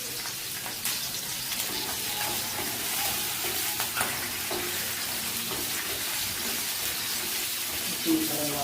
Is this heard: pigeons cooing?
no